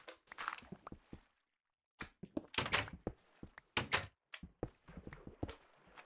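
Repeated wooden thunks and clacks as a door is placed in a blocky video game tunnel, close and sharp, arriving in irregular clusters with brief silent gaps.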